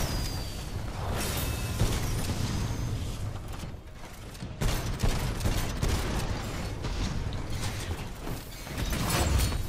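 Gunfire from the PP gun in a video game: fast, clattering shots and mechanical clicks in dense bursts, fairly loud, with a brief lull around the middle, heard without speech.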